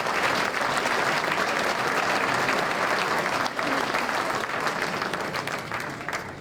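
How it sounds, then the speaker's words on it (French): Audience applause at a municipal council New Year's greetings ceremony in Montagny, a dense, steady wash of many hands clapping that carries on throughout and eases slightly toward the end. "On peut l'applaudir"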